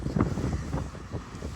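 Outdoor wind buffets the microphone on a dull, wet afternoon, making a low, uneven rumble in brief gusts that stay fairly close and moderately loud throughout.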